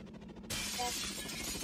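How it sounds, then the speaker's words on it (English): A pane of glass shatters loudly in the Roblox game Garten of Banban, a sudden bright crash followed by a sustained tinkling spray of breaking shards. "We broke the glass."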